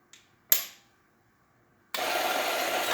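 A Pasquini coffee grinder grinds beans on a coarser setting: a couple of brief knocks and a sharp click, a pause, then loud, steady grinding starts and runs to the end.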